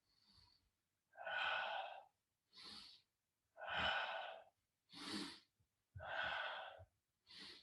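Slow deliberate breaths during a Pilates exercise, alternating long inhales and exhales in a steady rhythm with silent gaps, close and clearly audible with no speech.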